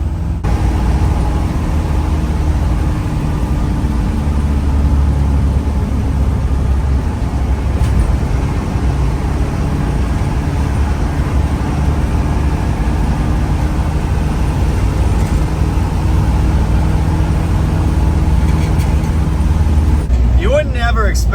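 A 1959 Plymouth taxi fitted with a Perkins diesel cruises at highway speed, its loud, steady engine drone and road roar filling the cabin without a break, with a voice faintly audible over it.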